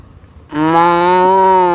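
A voice imitates a buffalo, giving one long, low, droning moo that starts abruptly and holds steady to the end.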